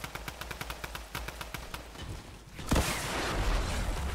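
Rapid bursts of gunfire from the Fortnite video game, a fast regular volley in the first half giving way to a louder, denser wash of shots and blasts, with faint background voice.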